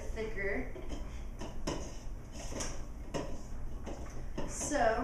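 A wooden spoon is stirred through thick cookie dough in a bowl, making repeated scraping knocks against the sides at a steady pace, under a person talking throughout.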